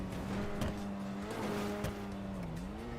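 Supercar in a roleplay video game revving with a steady engine tone that rises and falls, short tire squeals cutting in, continuous and close with no talk.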